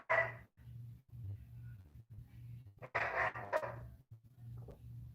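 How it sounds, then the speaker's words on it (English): Dogs bark and whimper indoors at moderate distance, a few sharp barks breaking through quieter whining and a low steady hum. "The dogs are not liking whatever my wife is doing to them"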